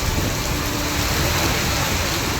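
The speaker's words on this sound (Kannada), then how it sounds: "ಮಲೆನಾಡು ಮತ್ತು ಪಶ್ಚಿಮಘಟ್ಟ ಸಾಲಿನಲ್ಲಿ ಧಾರಾಕಾರವಾಗಿ ಮಳೆ ಸುರಿತಾ ಇರುವಂಥದ್ದು" Torrential monsoon rain pours across the Malenadu hills and Western Ghats of Chikmagalur, a loud, unbroken roar of dense downpour with no gaps or voices.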